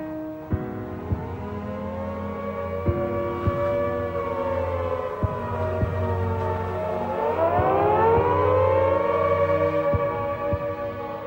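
A civil defense air raid siren of the Blitz wails loud and sustained, its pitch sliding down and rising again, with scattered sharp thuds beneath it.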